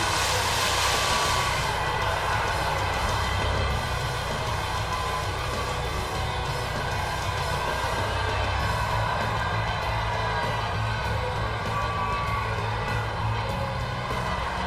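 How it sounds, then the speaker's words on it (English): A wrestling arena crowd roaring for Kurt Angle's debut, a dense, constant wall of loud cheering that fills the whole stretch without letting up. "The crowd going crazy!"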